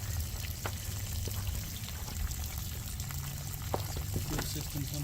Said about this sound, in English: Okay, water is flowing.